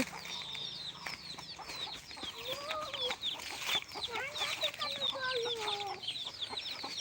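Several chickens clucking and chirping together at close range, a busy overlapping chorus of short calls, with a steady low background hum.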